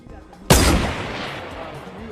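A single sharp sniper rifle shot in a train-themed video game, loud and close, with a long reverberant tail fading over two seconds.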